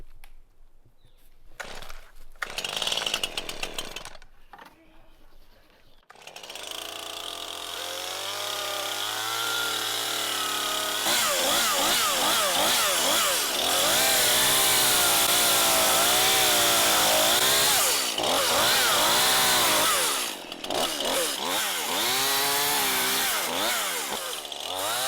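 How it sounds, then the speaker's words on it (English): A chainsaw cuts through downed trees along a barbed wire fence line, the engine idling low before revving into a loud, sustained cut with wavering pitch, briefly dropping and surging again near the end. "I'm fixing to do some chainsaw work and get some wire pulled back tight here."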